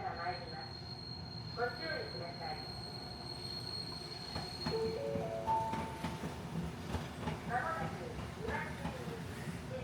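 A Randen tram in Kyoto rumbles steadily along its rails, with wheels squealing and screeching at intervals and faint voices murmuring in the background.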